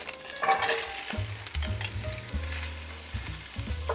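Leeks sauté in hot butter and olive oil over medium heat, a close, steady sizzle with a few stirring scrapes and clinks of the pan.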